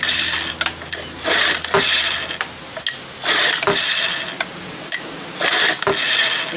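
A 1975 Johnson 4 hp outboard motor is pull-started by hand, several long whirring, ratcheting rope pulls with clicking recoil between them, close and fairly loud, with no engine catching.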